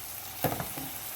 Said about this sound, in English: Let's just stir that all in, mix it all together.